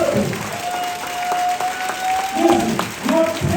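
Conference audience clapping continues in a broad, steady wash, with a voice speaking over the applause and a sustained tone running through the middle.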